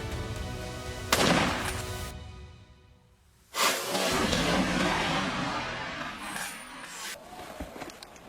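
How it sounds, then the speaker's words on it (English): Loud bursts of rifle gunfire while hunting wild boar, with sharp onsets and a trailing rushing echo, separated by a brief lull before a second longer volley. "A burst of gunfire erupted"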